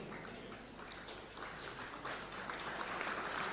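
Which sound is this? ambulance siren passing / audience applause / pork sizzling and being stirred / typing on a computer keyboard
audience applause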